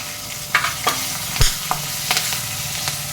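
Green chillies fry in hot oil for a tempering of spices, a steady close sizzle with a few sharp crackles and pops scattered through.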